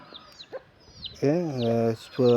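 Backyard chickens give short clucks and calls close by, followed by longer, louder vocal bursts.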